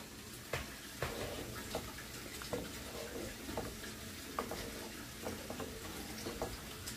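Hamburger meat gravy (caldito) stirred in a pan, with soft scraping strokes and a few clicks of the spoon against the pan at irregular intervals over a low, steady simmering bubble.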